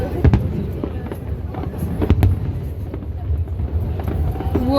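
Fireworks burst outdoors, sharp bangs and crackles at scattered intervals over a constant rumble of wind noise, with voices talking underneath.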